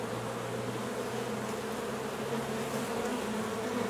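A dense, steady drone of many honey bees buzzing close by on a hive frame, continuous and even without pause.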